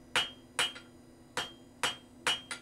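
A hammer strikes an iron bar on an anvil to flatten its sides for a rustic iron handle, giving six sharp ringing blows in an uneven rhythm, some in quick pairs with softer rebounds, close and loud.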